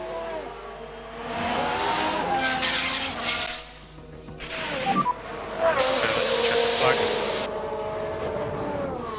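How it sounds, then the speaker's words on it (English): A Formula 1 race car spins in the F1 Manager video game, its engine note rising and falling with tyre noise over steady race-broadcast ambience and a commentator talking throughout. "Oh, we've had a spin."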